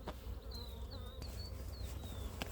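Honey bees drone and buzz around a weak hive during an inspection, a continuous close humming with single bees whizzing past.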